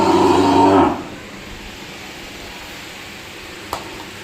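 A sick cow lying on the ground and unable to stand gives a deep, loud moo lasting under a second. Low background noise follows, broken by a single faint click.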